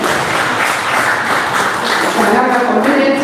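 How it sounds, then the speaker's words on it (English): An audience claps steadily and continuously at a church-hosted campaign event against human trafficking, a dense sustained patter with no talking. "Can we clap for them?"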